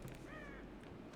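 A crow caws once in Rise of the Tomb Raider after being struck in the game, a single short raspy call over a steady low background.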